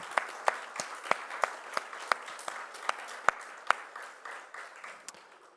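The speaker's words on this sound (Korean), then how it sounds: "우리 한번 격려하는 박수 한번 드리도록 하겠습니다." A church congregation gives a round of encouraging applause, heard as scattered, fairly quiet hand claps with distinct individual slaps in an uneven rhythm that thins out toward the end.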